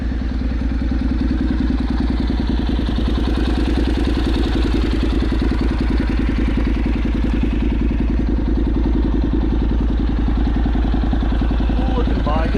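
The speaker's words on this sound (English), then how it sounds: "The bike does sound good." A Honda CTX700 motorcycle with an aftermarket shorty pipe and its catalytic converter still fitted idles steadily nearby, a loud, even, low-pitched throb that continues without a break.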